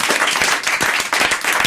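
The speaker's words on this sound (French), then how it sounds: "Et merci pour ces applaudissements." A French TV variety show's studio audience applauds with dense, steady clapping that fills the short moment at full volume, with no speech over it.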